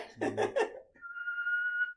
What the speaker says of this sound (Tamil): அப்படி விசில் அடிக்க தெரியும்.